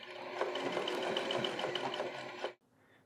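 A sewing machine stitches zigzag bar tacks on men's pants, running as a fast, steady mechanical whir with rapid needle clatter for about two and a half seconds before it abruptly stops, leaving near silence.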